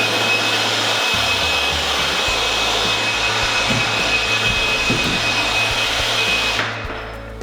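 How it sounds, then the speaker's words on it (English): A DEWALT blower runs steadily at full power for several seconds as it clears debris off a woodworking table, a loud continuous rushing whine that tapers off at the very end. "the other tool I bought last year that actually I have 2 of these, is this blower from DEWALT"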